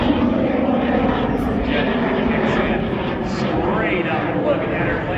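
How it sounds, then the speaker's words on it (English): An aerobatic airplane at an airshow climbs straight up, its engine a loud, steady drone that fills the whole clip, with a commentator talking over it. "look at that airplane accelerating with straight up"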